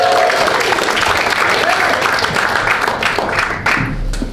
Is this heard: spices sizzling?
no